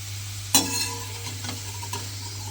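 Potatoes fried red in oil in a pan, stirred with a utensil: a sharp scrape and clink, then quieter stirring knocks over a soft steady sizzle.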